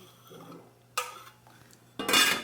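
A plate is handled while rice is flipped onto it in a home kitchen: two crisp ceramic clinks and knocks, close and distinct, separated by about a second of near silence.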